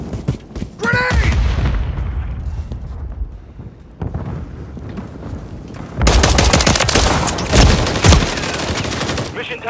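Dense automatic gunfire and heavy explosive blasts in a Call of Duty MW3 Team Deathmatch match, loud and continuous with bursts overlapping, a brief lull in the middle before a sustained roar of firing.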